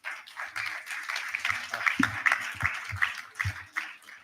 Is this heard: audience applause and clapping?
yes